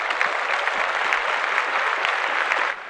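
Applause on a podcast, a dense burst of clapping, close and steady for nearly three seconds before cutting off, with no voices over it.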